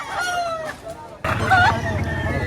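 Rooster crowing at a busy chicken market, one harmonic call rising over steady crowd noise after a brief lull, with people talking nearby.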